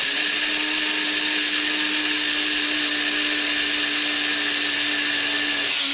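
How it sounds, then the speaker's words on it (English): An electric spice grinder reduces turmeric to a fine powder with a loud, continuous high-pitched whir that holds steady from start to finish. "I'm gonna grind this into a really fine powder."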